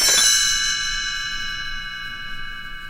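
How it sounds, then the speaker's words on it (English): Small bells ring once in a single bright chime that sustains and slowly decays, used as a page-turn cue in a Disney storybook reading of Goldilocks and the Three Bears. "You will know it is time to turn the page when Tinker Bell rings her little bells like this."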